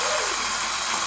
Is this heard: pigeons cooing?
no